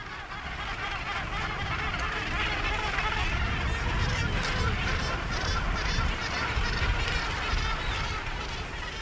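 A large gannet colony calls all at once, a dense, constant roar of harsh cries that stays loud throughout with no talking.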